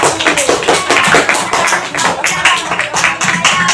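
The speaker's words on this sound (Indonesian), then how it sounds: "beri tepuk tangan yang semangat untuk kelompok 1" Steady enthusiastic applause from a class for a presenting group, many hands clapping continuously at close range throughout.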